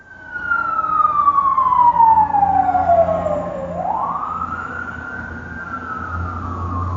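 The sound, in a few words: emergency vehicle siren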